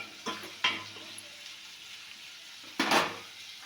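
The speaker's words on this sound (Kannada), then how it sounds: "ಮೂಲಂಗಿ ಹಾಕ್ಬಿಟ್ಟು ಚೆನ್ನಾಗಿ ಆಯಿಲಲ್ಲಿ ಫ್ರೈ ಆಗಲಿ." Sliced radish fries in oil in a pan for sambar, with a soft background sizzle broken by a few scraping stirs, one early pair and one louder stir near the end.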